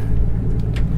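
A boat engine idles with a steady, loud low rumble, close and continuous, with faint ticking on top.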